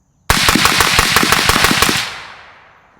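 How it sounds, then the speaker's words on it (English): Ten rifle rounds ripped off rapidly from a Guardian Defense GDM556k into an earthen berm, a loud, tightly spaced burst of sharp cracks lasting under two seconds, followed by a fading outdoor echo. "All right, so 10 rounds into the berm."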